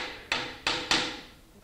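A brass hammer lightly taps a bearing outer race into the bore of a hammer mill housing, giving three crisp metallic knocks, close and fairly quiet, each with a short ring, with no voices.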